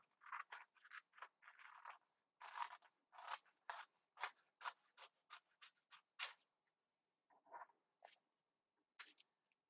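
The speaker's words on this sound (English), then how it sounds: "So right along the edge of your paper here is where you're going to cut." Scissors snip along the edge of a sheet of paper in quick, crisp bursts, a rapid run of close cuts that slows to a few scattered snips near the end.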